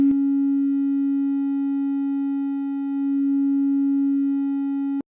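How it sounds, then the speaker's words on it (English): A Cherry Audio Memorymode software synth holds a single steady, loud sine-like tone with a few faint overtones, sustained for about five seconds before stopping abruptly. "we've moved to a sine, which is what you'd expect with a lot of distortion"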